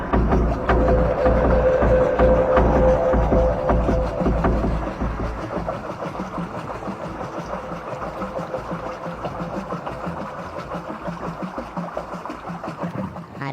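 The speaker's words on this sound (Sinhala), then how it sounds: "බෝට්ටුවේ වේගය වැඩි කරමු" A motorboat engine drones steadily and loudly as the boat speeds up, with water rushing around it, running without pause and no voices.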